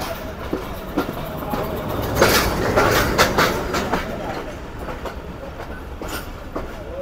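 The Karakoram Express rolls along the main line near Faisalabad with a loud, steady rumble and rhythmic clickety-clack of wheels over rail joints, its old coaches rattling throughout.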